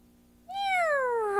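A person vocally imitates a cat, producing one long, drawn-out meow with a falling pitch. It starts abruptly after a short quiet stretch and stays close and loud to the end.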